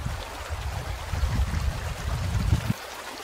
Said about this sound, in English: Crystal clear streams run through these high forest valleys.